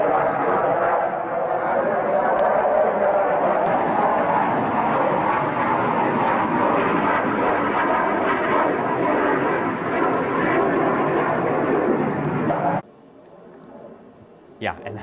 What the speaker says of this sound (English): nothing like being woken up by a good old F-series jet just flying right by your bedroom window